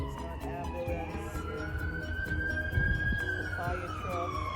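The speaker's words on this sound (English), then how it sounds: "It's an ambulance," An emergency vehicle siren wails steadily outdoors as it passes, its pitch sweeping slowly up and then falling away, with low traffic rumble and faint speech underneath.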